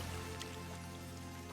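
Steady rain falls in the Infinity Nikki video game, a continuous soft patter with faint drips over a low ambient game hum, no talking.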